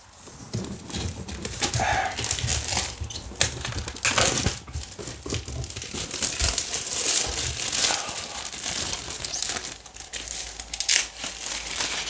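The plastic shrink-wrap on a Space Hulk board game box is torn and peeled off, making continuous close crinkling and crackling with sharp rips and rustles.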